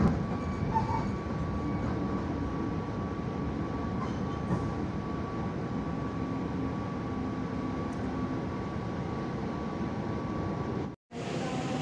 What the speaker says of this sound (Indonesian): ternyata kereta yang baru datang ini adalah kereta Senja Utama Yogyakarta